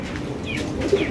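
Breeding pigeons in a loft, feeding their chicks, give faint soft cooing over low background noise in a brief moment.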